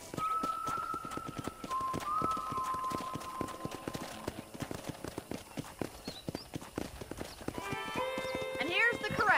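Horse hooves clip-clop in a steady, quick rhythm on a ranch in a western video game, with game music and brief whinny-like tones rising near the end, while a voice talks over them.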